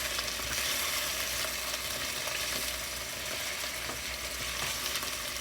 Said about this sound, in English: There you go, sizzling nice and hot, cooking on one side.